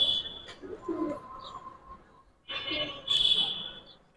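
Giribaz pigeons cooing close by in short soft bursts, a pair of bouts separated by a pause, with people talking in the background.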